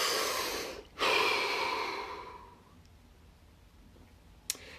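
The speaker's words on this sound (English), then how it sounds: "Deep breath." A single deep breath taken close to the microphone: a long inhale followed by a slow exhale that fades away, with a small click near the end.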